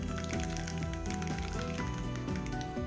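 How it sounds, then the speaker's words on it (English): Mustard seeds sizzle and pop in hot oil in a pan while chutney is being finished, a steady close frying hiss over a dense patter of small crackles, fairly quiet, with background music. "I add half a tablespoon of mustard seeds and let them pop."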